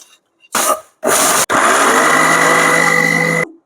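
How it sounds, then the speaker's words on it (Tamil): Mixer grinder pulsing, then running continuously while grinding roasted spices into vatha kulambu paste: two short loud whirring bursts, a brief click, then a sustained high-pitched motor whine that cuts off abruptly, close and loud. "நம்ம வந்து மிக்சியில் போட்டு இதை அரைச்சி எடுத்துன்னு வந்துடலாம்"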